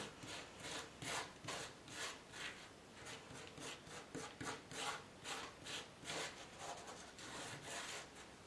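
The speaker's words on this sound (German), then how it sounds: "wipt ihr das Material auf die Oberfläche oder feuchtet es wieder an und zieht es wieder ein bisschen" Paint material is wiped and rubbed across a surface to make a rust effect, a quiet, close run of rhythmic scraping strokes, roughly two per second, with no voices.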